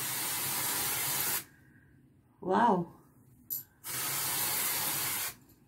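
Two long hissing bursts of aerosol root-cover spray, one at the start and one near the end, sprayed onto hair roots. A brief spoken exclamation falls in the gap between them.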